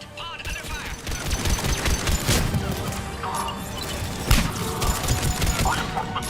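Heavy sci-fi gunfire in the shooter Mass Effect 3, rapid overlapping bursts and sharp cracks with crashes and thuds, loud and continuous throughout a chaotic firefight.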